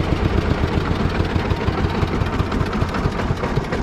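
An old DT-14 single-cylinder tractor engine idles steadily up close, a loud low rhythmic chugging with continuous vibration and no pauses.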